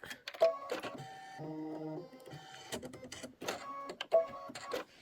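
An embroidery machine stitches a handle fill on a Kimberbell pillow block, giving a steady mechanical whir with rhythmic needle tapping and a few sharper clicks, at moderate volume and without talk.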